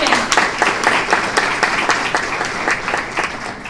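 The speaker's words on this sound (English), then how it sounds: "let's give another round of applause for our students." An audience at an academic awards ceremony gives students a round of applause, a dense, loud wash of many hands clapping together, with sharper individual claps standing out through the sustained roar.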